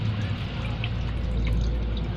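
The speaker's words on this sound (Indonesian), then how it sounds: "ini memang betul-betul kita siram basah ya, siram basah" Water mixed with a growth stimulant poured over freshly potted calathea cuttings to soak them, a steady close splashing pour with faint drips.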